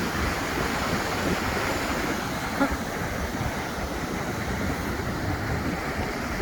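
Sea waves wash onto a beach in strong wind, a loud, continuous roar of surf mixed with buffeting wind noise, no voices.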